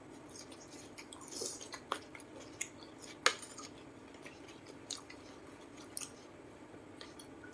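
Someone chewing a crunchy Thai mushroom curry close to the mic, with quiet moist crunches and small clicks spaced irregularly over faint background noise, and no talk.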